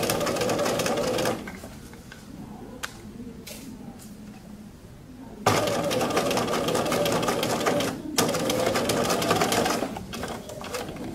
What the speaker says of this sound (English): so that all your fabric is back and you're stitching only your fold